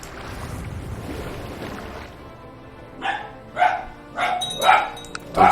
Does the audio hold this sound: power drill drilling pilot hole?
no